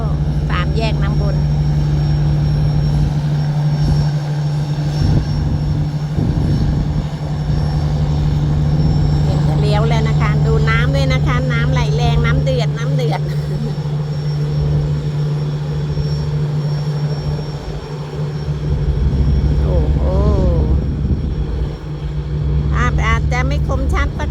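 Tugboat engines on a river towing cargo barges, a loud continuous low diesel drone with a steady hum throughout, while someone talks over it.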